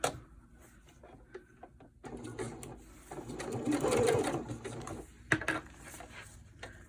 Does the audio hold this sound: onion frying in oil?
no